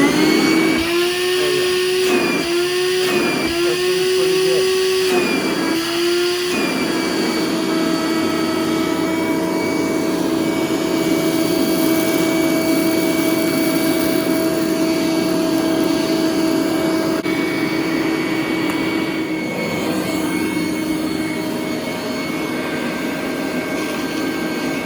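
A used Dewalt cordless 2-gallon wet-dry vacuum roars steadily up close while sucking up rice, its pitch wobbling and stepping through a few short bursts at first before settling into an unbroken, even drone.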